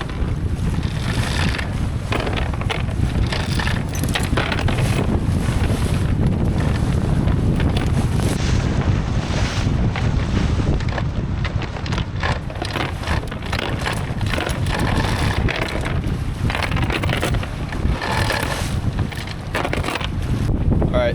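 Strong wind buffets the microphone continuously on a sailboat at anchor in Fiji, with a steady roar of rushing air and water, loud and unbroken throughout.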